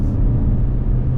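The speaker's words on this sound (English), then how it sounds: "now we're motoring a little bit, picking up a little bit of speed" A 2023 Kia XCeed accelerates with a loud, steady low engine and road rumble from inside the cabin, with no break over the short stretch.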